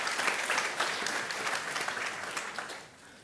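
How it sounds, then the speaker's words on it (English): A room full of people at a security forum panel claps steadily, a dense patter of applause that gradually fades toward the end. "Let's give a round of applause to our estimated panel."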